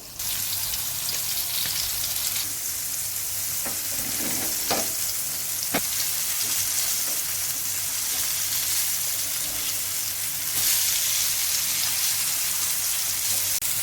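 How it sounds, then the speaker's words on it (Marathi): Bombil fish coated in rice flour frying in hot oil, a loud, dense and continuous crackling sizzle with a few brief clinks, with no voices over it. "आपण बोंबील तांदळाच्या पिठामध्ये मिक्स करून घेऊया आणि तेलात सोडूया"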